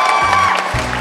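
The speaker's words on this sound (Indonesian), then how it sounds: "Tepuk tangan sekali lagi teman-teman." An audience at a kids' blind-audition singing show claps in a loud, dense burst of applause that is close and continuous, with faint cheering mixed in.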